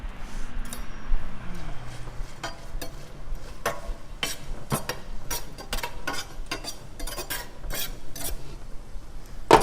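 Tomatoes popping and crackling in a hot pan over high heat, with scattered sharp pops and ticks over a steady low sizzle, close by and moderately loud, with no talking.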